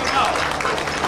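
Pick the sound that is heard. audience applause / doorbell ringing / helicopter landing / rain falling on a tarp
audience applause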